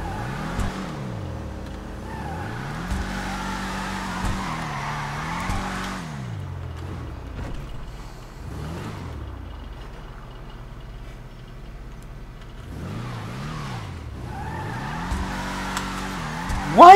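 A big, square custom car in GTA 5 Online drives and revs repeatedly, its engine note climbing and dropping through gear shifts, loud and close, with someone talking at times over it.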